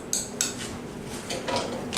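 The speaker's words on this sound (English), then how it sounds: "Give that a good stir." A utensil clinks and scrapes against a dish while keto bread batter is stirred, with a few light, close knocks spread over two seconds in a quiet kitchen.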